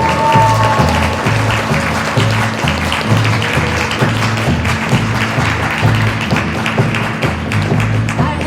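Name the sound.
audience applause for a performer at a concert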